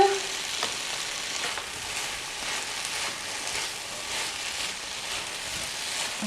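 Tofu tossed into a pan of sautéed vegetables sizzles and crackles steadily as it is stirred, a close, continuous frying hiss with faint scraping and no talk.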